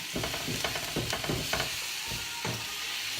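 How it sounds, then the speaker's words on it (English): Mushrooms and vegetables sizzle in a pan while a utensil stirs and scrapes through them in several short bursts, close and moderately loud. "when my mushrooms are like this, so they're getting there, that's when I'm going to mix the rest of it in all together"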